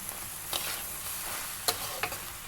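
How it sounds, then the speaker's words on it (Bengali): Sweet corn with coriander leaves, raisins and cashews frying in a pan, with a faint steady sizzle broken by a few quick scraping stirs. "আর একটু আমি নেড়ে চেড়ে ভেজে নেব"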